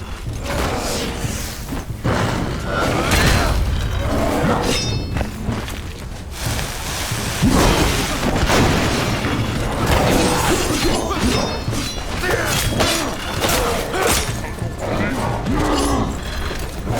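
A bomb blows up in Enshrouded amid a dense, loud wash of combat crashes, thuds and clatter, with people talking over the fighting.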